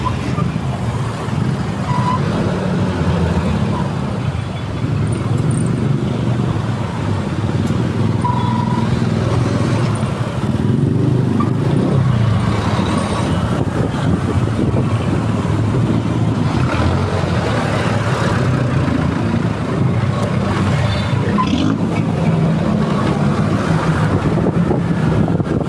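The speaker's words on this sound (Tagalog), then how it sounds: "Traffic." Road traffic at night, a steady wash of engine rumble and passing vehicles mixed with wind buffeting on the microphone, lasting throughout with no clear talk.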